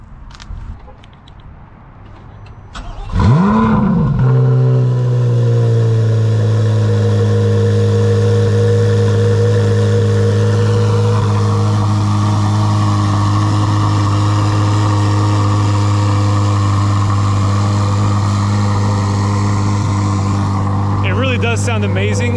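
A Sea Wolf Gray 2025 Corvette Z06 3LZ fires up with a sharp rising bark, then settles into a loud, steady, deep idle that holds close by for a long stretch, with a brief flare near the end.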